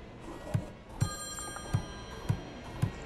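A telephone rings in the Friday the 13th Killer Puzzle game, a short repeated ring pulsing at a steady, even rhythm about twice a second over a faint background hum.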